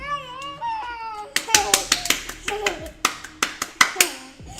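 A child claps hands in a quick series of about a dozen sharp, close claps, with a voice and an adult's voice talking at the start and between the claps.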